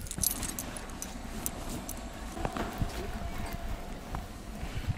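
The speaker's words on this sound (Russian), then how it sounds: "Открою ключами." Keys jangling and clinking while unlocking a gate on a snowy day, light metallic rattles near the microphone with a few sharper clicks over a low outdoor rumble.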